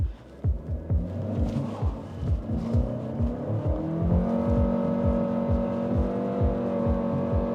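Chery Omoda 5 1.5T with a CVT on a high-speed test track, its engine a steady droning hum that rises and then holds at a constant pitch, with rhythmic thumping road pulses running throughout.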